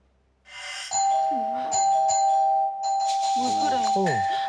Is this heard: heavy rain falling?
no